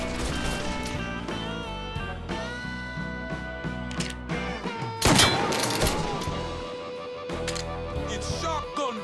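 Shotgun blasts ring out during a Mafia 3 gunfight, sharp loud bursts standing out around the middle of the passage over steady game music, with a few further reports afterward.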